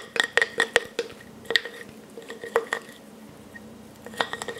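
Flour and water are stirred together in a bowl, a utensil clinking and scraping against the sides in quick, irregular bursts close by, with short pauses between strokes.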